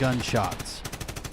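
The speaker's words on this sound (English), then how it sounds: "you hear a lot of fighting and back and forth gunshots." Gunfire from a fight around a corner, heard as a rapid run of sharp cracks in the second half while someone speaks briefly over the start.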